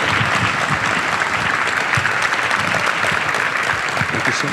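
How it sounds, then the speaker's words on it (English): An audience at a live event gives a guest a loud, sustained round of applause, dense clapping with a few sharper individual claps and faint cheers mixed in. "please join me in one more round of applause for our special guest, Mr. Craig Ehlo."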